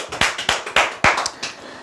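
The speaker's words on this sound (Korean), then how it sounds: "박수 한번 치시죠." A small group at a Korean telemarketing coaching seminar claps in short, scattered bursts, about seven sharp, close hand claps in under two seconds, loose and uneven rather than sustained applause.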